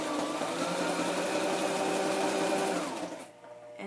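A sewing machine running steadily on a zigzag stitch for scrapbook layout work, a close, continuous mechanical whir that slows and cuts off near the end.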